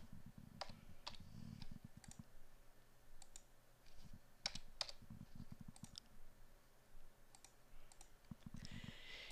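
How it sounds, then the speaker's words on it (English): Mouse clicks and keyboard typing at a computer while editing dimensions of a sketch and solid in 123D Design: quick bursts of taps and clicks come in irregular clusters, fairly close, with no talk. "You can change all the dimensions by clicking on them"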